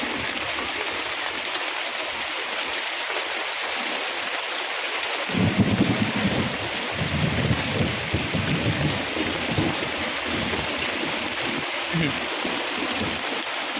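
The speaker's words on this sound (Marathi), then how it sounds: "बघा किती गारा पडतंय तिथं" Steady heavy downpour with dense pattering, growing louder and more clattering midway as hail joins in; a low rumble and voices sit under it.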